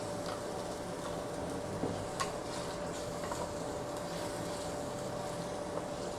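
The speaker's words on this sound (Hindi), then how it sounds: "अब इन चीज़ों को अच्छी तरह से आप इसकी भुनाई कर लें।" Chicken sizzles in a karahi with ginger, garlic and green chili, a steady close frying hiss broken by a few light stirring clicks and taps, with no talking.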